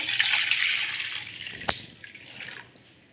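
Hot water pours steadily into a bowl in a home kitchen, a soft continuous splashing hiss with a brief sharp click midway, fading toward the end.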